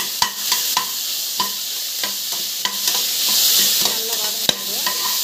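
Vegetables with beans, green chillies and garlic paste sautéing in a pan, a steady loud sizzle broken by repeated sharp scrapes and clicks of a spatula stirring, with no talk.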